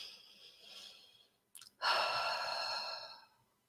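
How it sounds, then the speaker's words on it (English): A single deep breath taken close to the microphone: a soft airy inhale, a brief pause, then a long, loud, breathy sigh of an exhale that fades out gradually. "let's take a deep breath"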